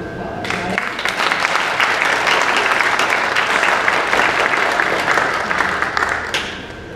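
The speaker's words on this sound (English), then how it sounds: "So I think we should give them a round of applause" A crowd at a high school choir fall concert breaks into loud, sustained applause that begins sharply, stays full for several seconds and tapers off at the close.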